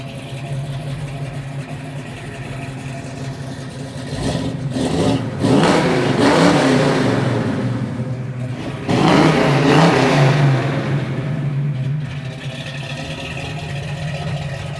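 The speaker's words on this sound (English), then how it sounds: "It's pretty hard to beat that sound coming from the big block underneath the hood." A 1969 Chevy Camaro's big block engine revs up twice under the hood, rising to two loud, throaty roars over a steady rumbling idle, heard up close with no talking.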